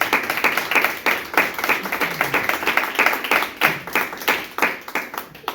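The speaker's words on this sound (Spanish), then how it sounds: "Dale un fuerte aplauso a nuestro Dios" A congregation claps together at a Spanish-language church service, a steady run of sharp, close hand claps that stays loud and fairly even throughout, with no talk over it.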